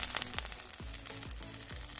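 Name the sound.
toothpaste sizzling in lava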